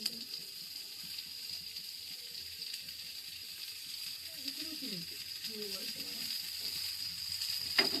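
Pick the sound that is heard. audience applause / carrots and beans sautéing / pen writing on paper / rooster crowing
carrots and beans sautéing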